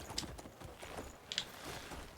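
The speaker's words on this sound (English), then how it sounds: "we should be on our horse at all times" Horse hooves clip-clop faintly at a steady walking pace while riding in the video game Crimson Desert, under soft ambient game sound.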